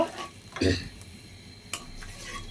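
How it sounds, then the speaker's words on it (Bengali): A ground paste of onion, garlic, ginger, cumin and cardamom stirred in a pan for a beef curry with arum root, heard as a brief scrape and faint sizzle with a few utensil knocks. "মশলাটাকে এখন কষায় নিব"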